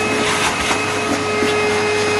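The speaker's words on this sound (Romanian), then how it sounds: "Dai cu aspiratorul prin servici!" A vacuum cleaner runs continuously at close range with a steady, loud droning whine and no pauses or talk.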